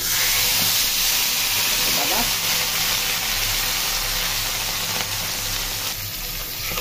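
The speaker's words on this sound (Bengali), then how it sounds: "এখন মাছটা ডুবান্ত তেলে ছেড়ে দিব। তেল কিন্তু অনেক গরম, ছিটাবে।" Fish is lowered into very hot, deep oil and fries with a loud, continuous sizzling hiss that holds steady throughout, close to the microphone.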